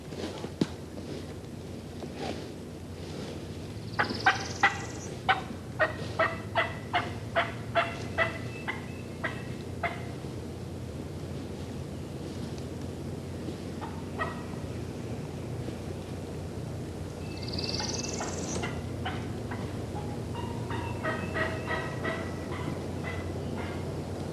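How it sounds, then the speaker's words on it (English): A wild turkey gobbles twice at a distance during a turkey hunt, each rattling call followed by a string of sharp clucks, over steady wind noise. "He'd gobble his head off, but he wouldn't come."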